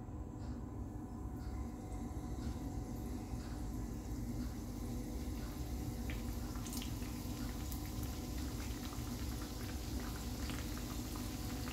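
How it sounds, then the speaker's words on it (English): Crispy bread kebabs of minced keema frying in hot oil, a steady dense bubbling and crackling sizzle that runs unbroken and fairly loud throughout, with no voices over it. "then add the crispy bread kebabs. First, it should be nicely heated. Add this one by one."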